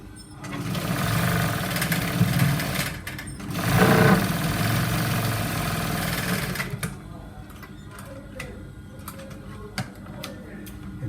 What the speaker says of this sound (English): Sew that part straight up.